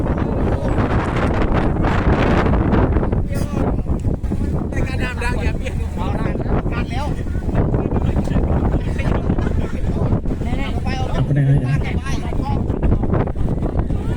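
Strong wind buffets the microphone in a constant roaring rush, with voices faintly audible underneath.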